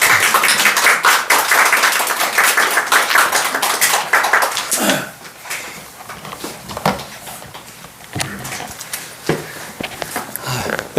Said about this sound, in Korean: 나오실 때 우리 큰 박수로 환영하겠습니다.